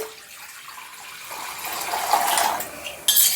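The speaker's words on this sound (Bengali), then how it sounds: "প্রথমে আগে কড়াইয়ে জলটা গরম করে নিচ্ছি। দিয়ে দিচ্ছি জল।" Water pours into a metal wok on the stove, a rising gushing splash that swells in pitch as the pan fills, ending with a brief clatter.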